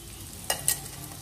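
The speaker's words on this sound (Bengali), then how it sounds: "পেঁয়াজগুলো লাল লাল করে ভাজা হয়ে গেছে," Onions fried to reddish-brown sizzle softly in a pan while a spatula knocks against the metal twice in quick succession.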